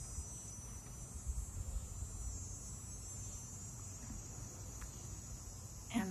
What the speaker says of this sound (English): And the cicadas are rubbing their little wings off.